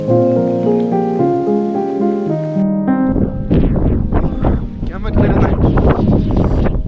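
Strong cold wind blows on a morning walk near Viripara Waterfalls in Munnar, heavy gusts buffeting the microphone with loud rumbling bursts after a stretch of music fades out.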